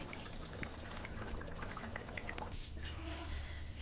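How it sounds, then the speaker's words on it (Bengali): Jackfruit and shrimp curry gravy with a little ghee simmers in a pot, a soft continuous bubbling and faint popping heard close but quiet, with no other sound over it. "দেখুন ঝোলটা হয়ে এসছে, ফুটে উঠেছে।"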